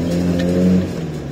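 An Iveco Daily 35-8 van with a custom exhaust accelerates hard, its loud, droning engine note building steadily and close up with no talk over it.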